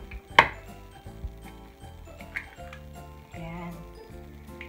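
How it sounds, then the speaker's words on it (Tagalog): Two eggs cracked against a bowl for banana bread: one sharp, close crack near the start, then a few faint clicks and taps over steady background music. "And magkakak tayo ng egg."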